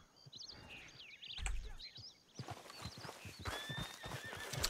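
Hoofbeats of a horse in the video game Red Dead Online clatter steadily and close throughout, with a high, wavering neigh breaking out partway through over faint ambient bird calls.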